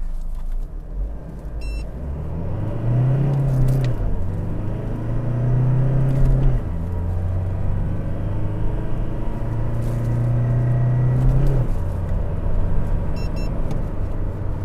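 A Toyota Revo 2.4 Z-Edition 2021 pickup with a tuned ECU accelerates hard from 0 to 100 km/h, a steady loud engine drone rising through several gear stages, heard from inside the cab.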